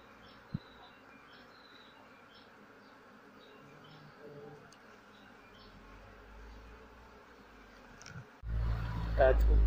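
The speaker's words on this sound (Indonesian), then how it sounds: "Kita coba ambil terhadap koloni lebahannya ini." An Apis cerana honey bee colony being moved from a nest in a children's play area into a wooden hive box gives off a soft, steady droning hum, before a loud rustling, handling noise takes over near the end.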